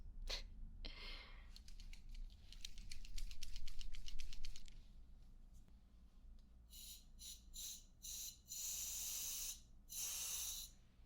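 Short bursts of lubricant spray hiss close by during a mechanic's repair and cleaning job, several separate blasts in the last few seconds after a stretch of soft rattling handling sounds, with no talking.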